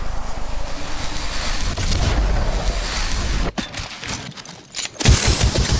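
Rapid gunfire from the video game Apex Legends, with bursts of loud shots and booms crowding the first seconds, a brief lull, then a fresh volley near the end, layered over busy in-game combat noise.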